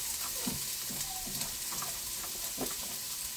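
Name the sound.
onion frying in olive oil for spaghetti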